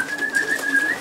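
Racing pigeons cooing softly in a loft, a thin steady tone running over a low airy hiss for about a second.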